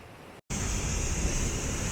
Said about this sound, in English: You could probably just hear this waterfall